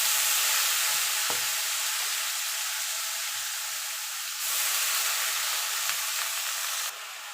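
Water lily stems with turmeric sizzle steadily in a hot pan, a continuous bright frying hiss lasting throughout with a few faint scrapes of stirring, no voices present.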